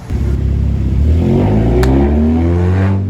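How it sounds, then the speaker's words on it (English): A car with a faulty muffler revs loudly and roughly nearby on a street in Wrigleyville, its throaty engine roar rising in pitch over about three seconds with a clattering rasp. "Get your muffler fixed, buddy."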